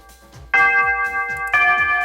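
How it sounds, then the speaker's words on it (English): A school bell from the PC visual novel game Shuffle! rings to end an exam, sounding as two bright, sustained chime tones struck one after the other, loud and clear over soft background music. "The bell rings, and the exam is over."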